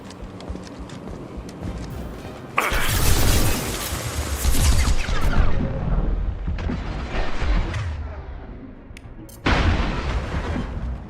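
A grenade blast in the shooter game Mass Effect 2 erupts as a loud, close explosion with a rumbling tail, set among ongoing gunfire and combat noise, followed by another burst of heavy firing near the end.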